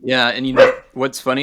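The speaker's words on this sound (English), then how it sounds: "Apologies for the barking dog." A dog barks in the background during a conversation, with a few short barks breaking through the steady talk of two people.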